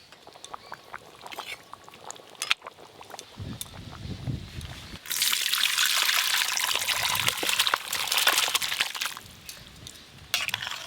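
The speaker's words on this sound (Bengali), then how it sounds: "এবার ঢেলে নেব।" Mutton and potato curry, cooked on a clay stove, pours from the pot in a steady liquid rush that swells to a loud, broad splash midway and then continues for several seconds, with no talking.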